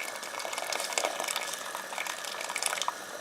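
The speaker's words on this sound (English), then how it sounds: "A little bit more water." Steady stream of water splashing and pouring into a pot, continuous and fairly close, with no talking.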